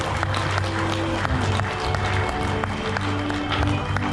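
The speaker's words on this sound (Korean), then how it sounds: "큰 박수 부탁드립니다" Applause from an audience at a Korean commemorative ceremony for the 100th anniversary of the Joseon Uiyeoldan, a steady dense clapping that fills the room throughout, with a low hum underneath.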